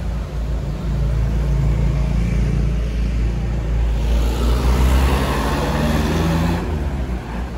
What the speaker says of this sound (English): There's a lot of smoke coming out from the lorry.